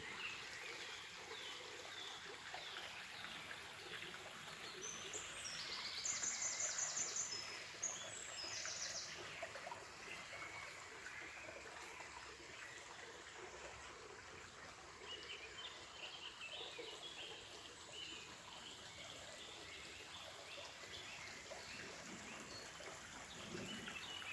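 A stream runs beside an old abandoned water mill at the bottom of a forest valley in Ashdown Forest, a soft steady trickle and wash going on throughout, with faint bird chirps high above it.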